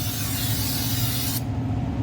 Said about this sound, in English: now I'm gonna just take some carburetor cleaner and spray this on